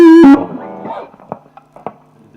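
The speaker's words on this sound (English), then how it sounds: "now I switch on the overdrive" An electric guitar played through an overdrive effect into an amp with a 12-inch speaker, in a smooth jazz tone setting: one loud, sustained distorted chord rings out, then drops to quieter, softer picked notes.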